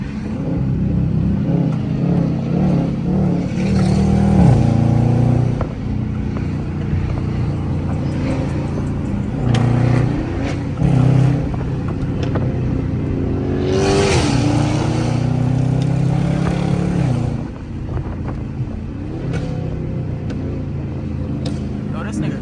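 An 800hp-plus widebody Dodge Hellcat engine roars and revs nearby during a drive, rising and falling in pitch with surges of acceleration, while people talk over it.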